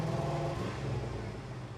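An LS-swapped Ford F1 truck engine idling and straining as it fails to rev, a dense low rumble up close that sags slightly over a short span.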